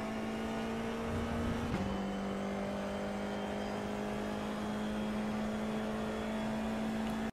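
A Formula IR-04 open-wheel race car in the iRacing sim at Interlagos holds a steady high engine drone that steps down once with a gear change, then runs on evenly, moderately quiet with no talk.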